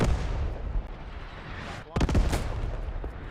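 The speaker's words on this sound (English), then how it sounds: "Artillery going in now." Artillery fire in the WWII shooter Post Scriptum, a dense rumbling barrage of booms and gunfire with a sharper burst of blasts near the end, continuous and fairly loud.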